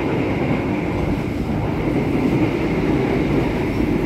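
Inside the executive car of the Argo Cirebon passenger train, a continuous loud rumble of wheels and carriage noise with a steady low drone, no voices.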